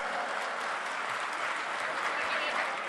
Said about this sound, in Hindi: जोरदार तालियों से आपका स्वागत है।